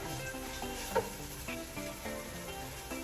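Ginger sautéing in a pan gives a soft, steady sizzle under some tonal background sound, with a brief louder clink near the one-second mark and no speech.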